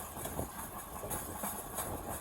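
A Kentucky rail explorer rail bike rolls steadily along old Southern Railway tracks near Versailles, giving a continuous, fairly loud rumble with faint rhythmic clicks and no voices.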